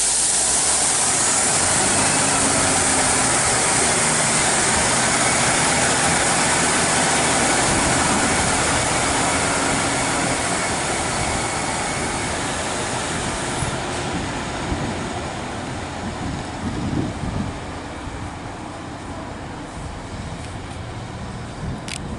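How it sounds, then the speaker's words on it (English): Train 15237, an Arriva Trains Wales service, pulls out of Barry Docks station with a loud, sustained rumble of engine and wheels that slowly eases as it moves off. "And here is 15237 now departing."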